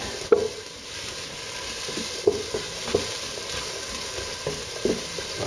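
Onions brown in a hot pan for risotto, with a soft steady sizzle and scattered taps of a spoon stirring. No voices.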